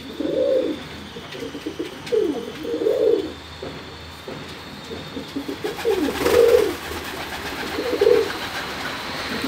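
Pigeons coo on a balcony in soft, rounded phrases that repeat every couple of seconds, close by and steady over a faint background hum.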